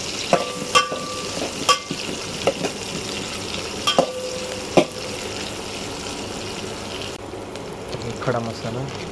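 Onions and whole spices frying in oil in a home kitchen for veg soybean biryani, a steady sizzle with stirring clinks and scraping; a few voices talk quietly nearby.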